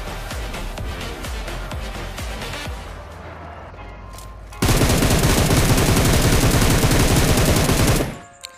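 Gunfire rings out in a solo first-person battle royale game: rapid automatic bursts at first, then a dense, loud barrage of continuous shooting that fades out near the end.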